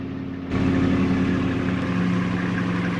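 A car engine in Farming Simulator 22 fires up abruptly and settles into a steady, loud, droning idle with a strong low hum, heard alone.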